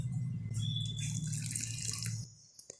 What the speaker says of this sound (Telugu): దీంట్లో కొద్దిగా వాటర్ యాడ్ చేసుకొని కలుపుకోండి.